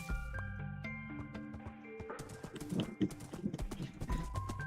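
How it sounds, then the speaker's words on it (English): In Minecraft, a horse's hooves clip-clop in rapid galloping beats over layered game music tones, with a neigh mixed in; the sound is moderately loud and busy. "Oh wait, I need my horse"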